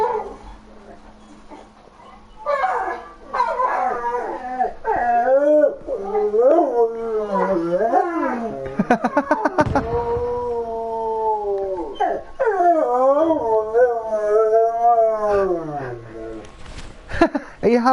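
A dog howls loudly and close by in long, wavering, rising and falling cries, breaking into short yips and whimpers between drawn-out howls.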